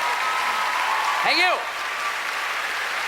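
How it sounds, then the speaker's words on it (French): Audience applause at a comedy gala, a broad steady wash of clapping lasting throughout, with a voice speaking briefly over it partway through. "Ça vaut les applaudissements, je vous le dis."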